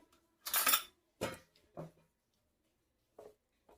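A spoon clinks and scrapes against a pan while vegetables are stirred with chili masala, four separate short clatters followed by a pause and a softer final tap.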